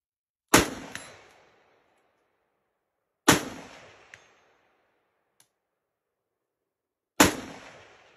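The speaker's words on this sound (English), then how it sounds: "I'll go ahead and roll in some footage of me shooting 1-for-1 out to 400 yards with this gun" Three sharp AK-47 rifle shots fired one at a time at targets out to 400 yards, each a loud crack with a short decaying echo, separated by a few seconds of silence.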